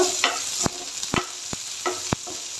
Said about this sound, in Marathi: एक बारीक चिरलेला कांदा आणि हे पण आपण तेलावर थोडंसं परतून घेऊया लालसर कलर येईपर्यंत